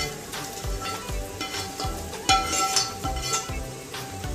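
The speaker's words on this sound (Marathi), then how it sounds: "व हे व्यवस्थित आपण मिक्स करून घेऊया" Fried masala being stirred into cooked mutton for a red tambda rassa curry, with rhythmic spoon scrapes against the pot over a constant sizzle and a few metallic clinks.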